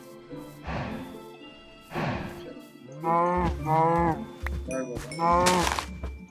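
Cattle in the video game Minecraft moo repeatedly, with a series of drawn-out, bellowing calls from more than one cow that are fairly close and clear, and a few short game clinks mixed in.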